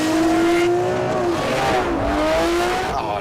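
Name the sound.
Lamborghini Murcielago LP670-4 SV accelerating 0 to 62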